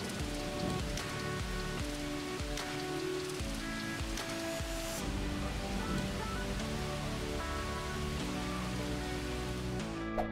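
Steady rain patters on a surface, a soft continuous hiss with scattered drops, faint and even, with some low tonal sounds underneath.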